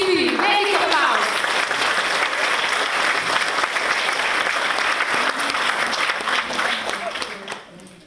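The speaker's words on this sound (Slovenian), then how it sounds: "Velik aplavz!" Concert audience in a cultural hall applauds loudly in a dense, sustained wave of clapping that fades out in the final second.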